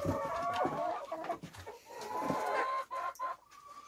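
Several chickens cluck and chatter close by, overlapping calls in an irregular stream with no voices.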